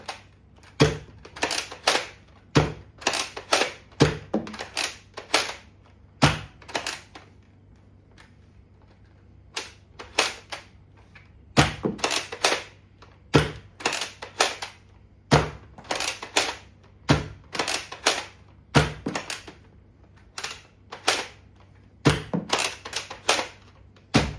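Nerf N1 toy blaster firing darts one after another, sharp snappy pops in irregular bursts with short pauses between, close and fairly loud, no talking.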